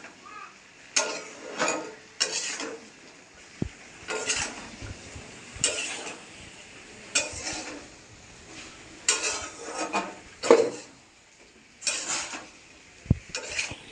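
Spices being stirred into potatoes, pumpkin and chickpeas in a wok, with repeated scraping and clattering strokes of a utensil against the pan in short bursts, close and moderately loud.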